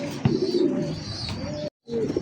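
A white Lotan pigeon coos close by in deep, rolling throaty calls that repeat over a couple of seconds, with a brief silent break near the end.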